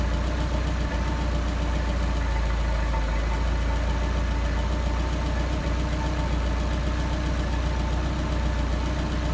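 Engine idling through a Solex 44PHH carburetor, a steady, close, loud rumbling drone with an even mechanical patter that holds unchanged throughout.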